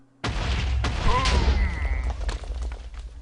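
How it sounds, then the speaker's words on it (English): An enchanted TNT block in Minecraft blows up with a sudden loud boom. The blast rumbles on and crackles with scattered pops as the debris settles, with no voice over it. "sit back and enjoy the explosion"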